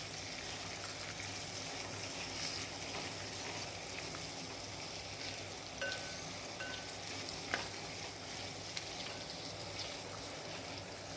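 Onions frying in a pan for chilli chicken while being stirred, a steady soft sizzle with faint scrapes, heard alone throughout.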